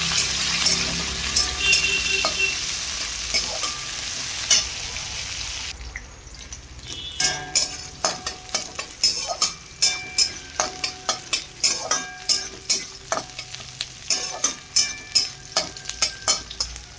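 Onions fry until reddish golden brown for a mutton curry: a dense oil sizzle at first, then a brisk run of rhythmic scraping stirs against the pan that repeat steadily over a quieter hiss.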